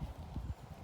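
Hooves of a stressed young horse being started under saddle clip-clop in a few soft, low, uneven steps, close by and faint, with no talk.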